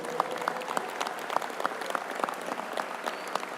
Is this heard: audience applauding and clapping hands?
yes